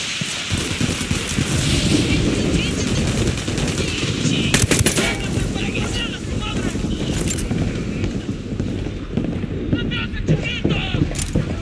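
Dense, continuous automatic gunfire from the tactical shooter Ghost Recon Wildlands, loud and sustained for the whole stretch, with bursts overlapping into a heavy fusillade and voices talking underneath.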